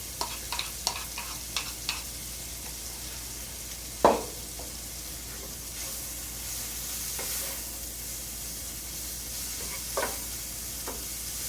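Chopped onion, ginger and garlic fry in a pan with a steady sizzle, broken by occasional spoon stirs and scrapes and one sharper clank near the middle.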